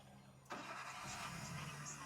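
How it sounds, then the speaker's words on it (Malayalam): A car engine fires up from a push-button start after about half a second of quiet, catching abruptly and settling into a steady, faint idle. "നമ്മുടെ വണ്ടി സ്റ്റാർട്ട് ആയിട്ടുണ്ട്"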